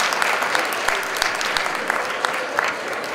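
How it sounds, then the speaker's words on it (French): An audience at a festival of ideas game show applauds the winning pair, a dense steady clapping that holds throughout with scattered sharper individual claps. "Je vous applaudis"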